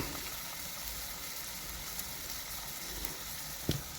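A steady, close hiss and bubbling of water heating on a camping stove inside a vehicle, constant throughout, with a small click near the end.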